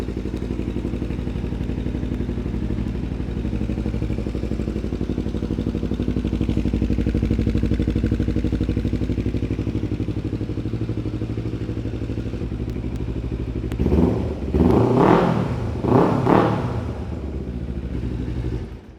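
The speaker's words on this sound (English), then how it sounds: "The bike works. It sounds pretty good" Motorcycle engine idling steadily with a low, loud rumble for a long stretch, then revved in a few quick bursts near the end, heard up close with no talking.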